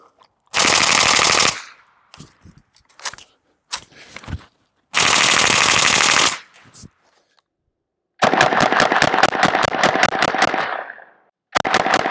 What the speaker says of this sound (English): we're gonna hit it 30 more times here with some more 115 grain Minuteman munitions on full auto coming out of our MP5 clone